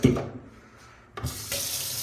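A kitchen tap in a Calgary house runs into the sink, a close hissing gush that stops briefly after a splash and then resumes strongly, heard alone without speech.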